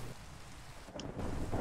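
Steady rain hiss and a low rumbling swell of thunder play as weather ambience in the Minecraft Nether. The storm is constant and moderately loud, with the rumble building toward the end.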